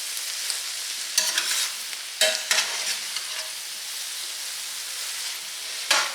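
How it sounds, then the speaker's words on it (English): Mushrooms being stirred in a covered skillet while cooking for Salisbury steaks: a continuous soft sizzle broken by a few louder scraping bursts as the spoon moves them. "So I'm going to add, another handful of mushrooms. So this is probably 12 ounces total. Just stir these in."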